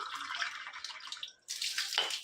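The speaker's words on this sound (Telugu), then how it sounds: "సో ఇప్పుడు మనం ఫస్ట్ వాటర్ అనేది నింపుదాము" Water pours into a cup, a steady close splashing rush that pauses briefly before a second pour.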